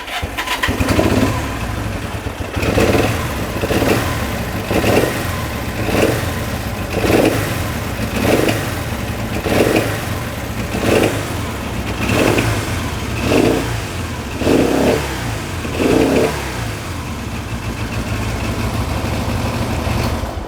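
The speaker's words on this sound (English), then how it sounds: "I'm just going to do a quick start up." A 1971 Honda CB125 K3 motorcycle runs after an electric start, its small engine revved in a steady series of about a dozen evenly spaced, loud, close blips over a continuous idle.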